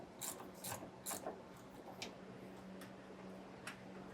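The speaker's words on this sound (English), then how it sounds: "on the inside, I'm going to have a 1/2-inch socket. We'll pop that in, and we'll just take that bolt out." A bolt on the front suspension of a 2019 Holiday Rambler Admiral motorhome is ratcheted out with a 1/2-inch socket: a few crisp ratchet clicks in short bursts, close and fairly quiet, then sparser ticks.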